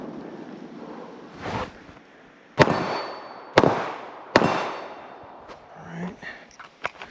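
Gunshots ring out at a shooting range from a kneeling position at steel and cardboard targets about 15 yards away, three sharp loud cracks in quick succession, followed by fainter shots, over wind noise and a nearby voice.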